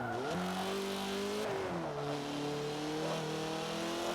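Renault Megane race car in Forza Motorsport 7 on a circuit, engine revving high and loud, pitch climbing, dropping sharply on a shift or lift near the middle, then holding a steady strained whine.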